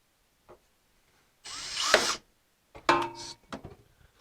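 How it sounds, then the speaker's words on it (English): A power drill bores into a 1957 Chevy during a Hurst Roll Control install, giving two short whirring bursts with a faint tick before them and a brief rattle afterward, all close by and without voices. "Looks like I'm drilling it in place."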